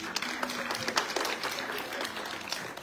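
Applause from an audience at a Comorian craft fair in France, organised by a Comorian women's union: steady, moderately distant clapping that carries on throughout without pause.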